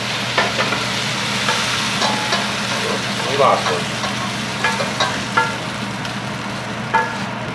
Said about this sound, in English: I want to take the pork bites and put them into our pan.